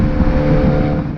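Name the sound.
Alpine A110 engine in sport mode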